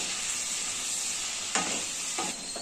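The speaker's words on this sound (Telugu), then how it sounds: "నేను నింపకుండా ఆయిల్లోనే వేసేసి గ్రేవీ మొత్తం దీనిలోనే వేసేస్తాను" Brinjal curry sizzles steadily in hot oil with gravy, a constant bright frying hiss, punctuated by two short bursts of stirring or scraping in the pan.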